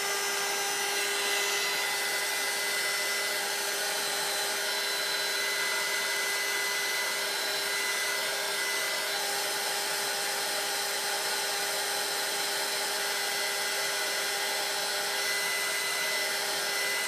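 A hair dryer blows steadily at close range to dry glue on a handmade craft snowman, a continuous even whirring drone with a faint whine that holds for the whole stretch without pause.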